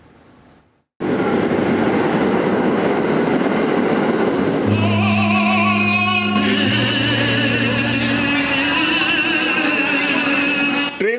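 A subway train rumbles loudly and continuously through a New York City underground station, with sustained high metallic tones rising over the roar partway through.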